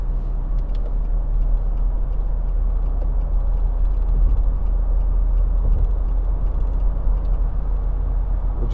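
A 2013 Nissan Navara 2.5 dCi Tekna double cab pickup cruises at motorway speed on heavy-duty pattern tyres, with a steady loud drone of engine, road and tyre roar and occasional faint rattles, without talk.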